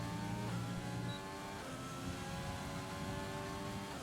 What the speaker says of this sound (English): The McLaren starting a flying lap